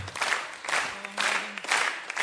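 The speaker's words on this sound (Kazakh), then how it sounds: "Меймалардан ілтімас бір қол шапалақларды қағып, қошаметлеп қоямыз" Wedding guests applaud in repeated bursts of mixed clapping, fairly close and lively, each surge rising and easing over a couple of seconds.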